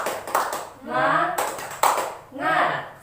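Children in a classroom chanting together and clapping in rhythm, two bursts of group voices each followed by a run of quick hand claps, loud and close.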